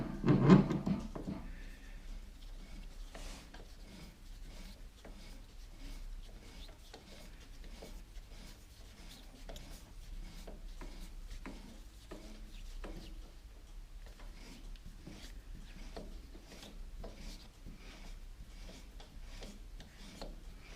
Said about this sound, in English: Now we cut a thread